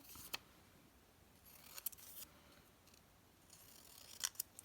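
Scissors cutting fabric pieces for a patchwork quilt block, a few quiet, close snips in separate short bursts, faint against a hushed room.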